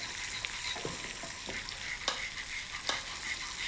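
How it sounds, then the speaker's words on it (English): Butter being whisked into hot caramel in a pan, a soft continuous bubbling hiss with light scraping whisk strokes and a couple of sharper clinks against the pan. "Just start to whisk the butter in."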